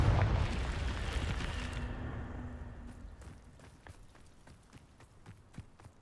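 A blasting-curse explosion in Hogwarts Legacy opens with a heavy, booming blast that rumbles and fades over a few seconds, followed by faint scattered crackles and footstep-like taps.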